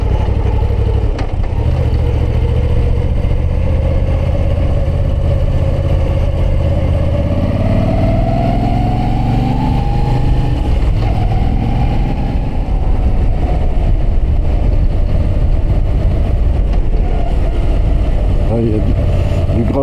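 A motorcycle engine climbs a winding mountain road to the Plateau des Glières in Haute-Savoie, droning steadily close to the mic, pitch rising and falling through the hairpins, with a rider talking over it throughout.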